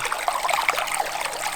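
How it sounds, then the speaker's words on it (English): Water pours from the outlet of a solar-powered pool pump into a DIY water-tank pool, a steady, close trickling and splashing with no voices. "the water's flowing nicely"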